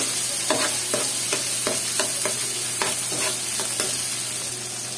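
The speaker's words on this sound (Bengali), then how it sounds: "তো এই যে এগুলো সব একসাথে নিয়ে এই মশলার সাথে মিক্সড করতে হবে।" Pieces of pangasius fish are mixed with spices by hand or spoon, making a close series of about a dozen wet scraping strokes at an uneven rhythm over a steady background hiss, with no talking.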